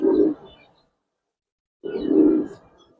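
Giribaz pigeons give two soft, low cooing calls, close by, separated by a short silence.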